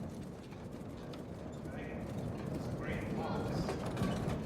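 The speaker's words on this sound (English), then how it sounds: "We see the two horses following fast" Two horses gallop while drawing a heavy wagon in a Dracula horror audio drama, a quick, rattling clip-clop of hooves and creaking mechanisms at moderate distance over a steady rumbling bed.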